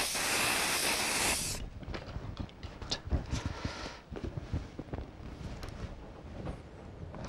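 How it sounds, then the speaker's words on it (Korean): Hairspray hisses in a loud, steady burst onto stray flyaway hairs of an updo, then gives way to quieter rustling and handling sounds. "이런 부위는 이제 스프레이로 잡아주는 것,"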